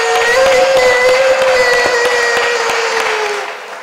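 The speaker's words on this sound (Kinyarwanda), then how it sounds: "natwe twifatanyije nabo gutanga amashyi no gutanga impundu" A cathedral congregation breaks into dense, steady applause. The clapping rings with sharp claps over a sustained tonal hum and fades slightly at the very end.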